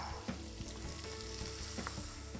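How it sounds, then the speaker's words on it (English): Sliced leek sautéing with ginger and chili in a pan, a steady close hiss of sizzling with a few light stirring knocks, no voices. "And as that sautés, I'll add all the sliced leek."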